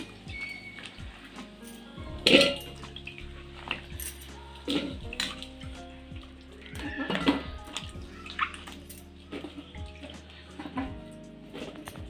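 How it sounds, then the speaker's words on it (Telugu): Tender eggplants are washed by hand in salt water in a bowl, giving intermittent close splashes and sloshing with a few louder dunks. "ఒక గిన్నె తీసుకొని ఉప్పు నీళ్ళు వేసి కడుక్కున్న వంకాయలను వేసుకుందాం"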